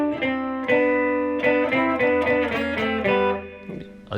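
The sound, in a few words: electric guitar playing a riff in thirds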